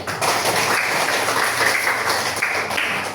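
Applause for Tari from a class during a civics lesson, a steady patter of many hands clapping together at moderate volume for about three seconds, with no talk over it.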